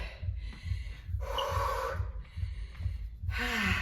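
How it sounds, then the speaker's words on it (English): Heavy, rhythmic breathing and gasping from people short of breath during a bodyweight burpee workout, steady panting pulses repeating about twice a second, close and loud with no talk. "I love the sound of people being short of breath."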